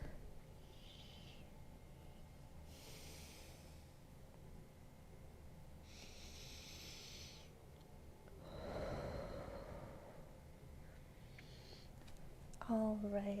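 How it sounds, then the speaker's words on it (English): Slow, deep breaths during a beginners' hips and frog pose yoga flow: a few soft, airy inhales and exhales, spaced apart and faint over a quiet room hum, ending in a brief louder breath or voice. "let's take 2 more breaths"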